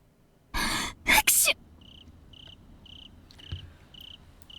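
Anime-style character Tomoe sneezing in the visual novel game Higurashi: a breathy intake followed by two sharp, close sneeze bursts, then quiet background with repeated high chirping insect calls like cicadas or crickets.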